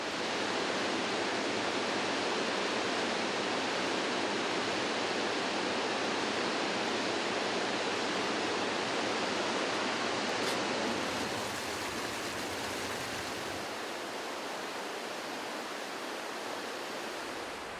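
Steady, broadband rush of the fast-flowing Parvati River in the Himalayas, loud and continuous throughout with no voices, a constant churning roar.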